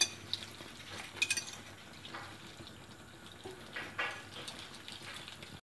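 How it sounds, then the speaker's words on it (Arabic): Quiche batter being stirred until smooth in a bowl, with soft scraping and clinking of a utensil against the side, quiet and intermittent with a few louder knocks. "نخلط حتى تجانس العناصر"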